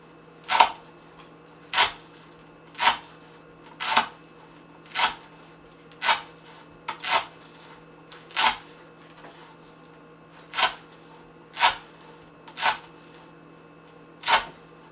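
An O-1 tool steel knife slices repeatedly through rope, about a dozen sharp, crisp cuts at a steady pace of roughly one per second, close and clear over a quiet background.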